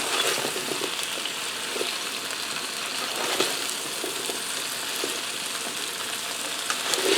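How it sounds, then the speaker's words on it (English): Vegetables frying in a skillet with Cajun seasoning, a continuous dense sizzle with faint occasional stirring taps, close and even in level throughout, with no voices. "my vegetables will cook down some as they fry."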